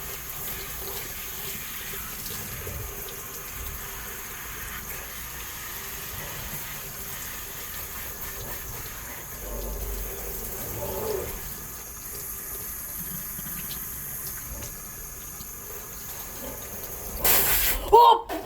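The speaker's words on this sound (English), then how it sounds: "But now, it's time to rinse the back again. Well, rinse all the soap off of it." Tap water runs steadily as soap is rinsed off the back of a phone recovered from a pond, a continuous close hiss of flowing water that swells louder near the end, with a person talking over it.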